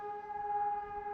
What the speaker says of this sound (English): A warning siren on a winter night 6 years ago as the coast of Lincolnshire was flooded.